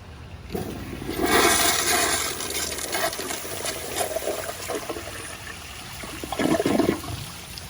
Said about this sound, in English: Do a full power flush.